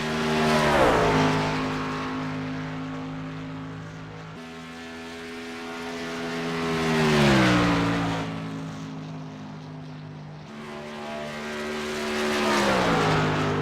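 Race car engine on a qualifying lap, revving through gear changes and swelling louder then fading as it passes, with repeated rises and falls in pitch across several passes, no talk.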